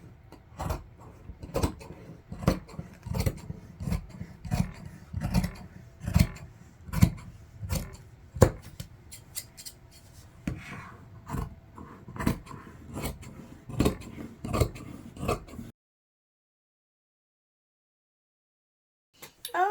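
Scissors cut through a denim jacket in a run of crisp, rhythmic snips and rasping strokes close by, about fifteen seconds of steady cutting, then near silence.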